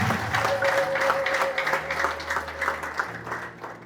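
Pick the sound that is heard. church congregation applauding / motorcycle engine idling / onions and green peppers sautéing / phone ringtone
church congregation applauding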